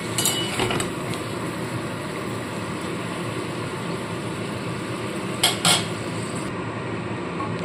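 A lid is set onto a pot of gondhoraj malai chicken cooking over low heat, giving two brief metallic clinks against a steady kitchen hiss.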